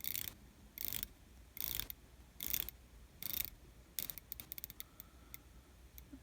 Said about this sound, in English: It's a 120 click bezel. Let's give it some action here.